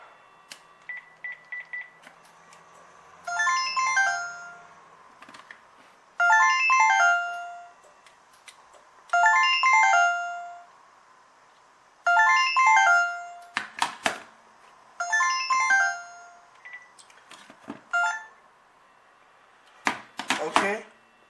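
A thrift store telephone rings in repeated electronic trilling bursts, about six evenly spaced rings a few seconds apart, fairly loud and close, with a few sharp clicks of handling near the end.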